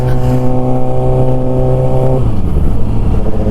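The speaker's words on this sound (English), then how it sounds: "This bike sounds so bloody good. Never get bored of the sound." A freshly serviced motorcycle engine runs loud and close, with a strong steady harmonic drone that drops in pitch partway through as the revs ease off. There is no talking.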